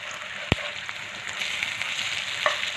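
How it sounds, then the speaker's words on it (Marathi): Taro leaf vadi frying in oil over medium heat hiss with a steady, moderate sizzle, punctuated by a sharp click near the start and a faint clink later. "आता आपल्याला अशाच मिडियम गॅसवरती उलटपालट करून खरपूस लाल रंगावरती तळून घ्यायचे आहेत."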